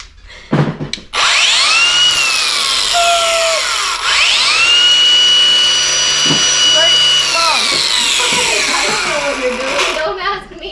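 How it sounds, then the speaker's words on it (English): An angle grinder cleans up weld edges on a trash-area wall and fence, its motor spinning up to a loud, close whine that dips and rises in pitch as the disc bites the metal, then winds down. "grab that grinder and do it"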